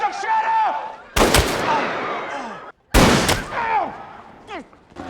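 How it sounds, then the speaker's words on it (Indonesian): Gunfire in a movie shootout between suspects: two loud, sharp bursts of shots about two seconds apart, cutting through a busy background with tonal squeals and chirps. "Be advised, the suspects are shooting at each other."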